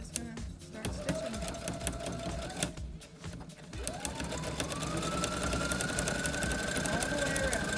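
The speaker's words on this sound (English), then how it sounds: "And then we're just going to start stitching." Brother CS7000i sewing machine stitching fabric, its motor whirring at a steady close pace with rapid needle clatter and a whine that climbs as it speeds up, a few sharp clicks in between.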